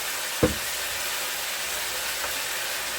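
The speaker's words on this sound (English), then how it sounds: "So I'm gonna put the oxtail to brown a little bit." Oxtail browns in a hot pot with a loud, steady sizzling hiss, close by, with one brief clunk near the start and no talking.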